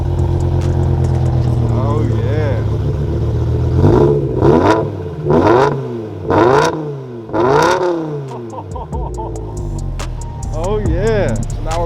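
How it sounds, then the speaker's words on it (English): A BMW M5 V10 with straight pipes, a muffler delete and new rod bearings revs hard several times in a row, loud and close, with a rough idle between blips and a brief voice at the end. "enjoy the nice straight piped V10 M5."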